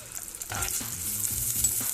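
Onions and green chillies fry with whole spices in a pan for egg fried rice, a steady close sizzle broken by stirring scrapes throughout, with no voices.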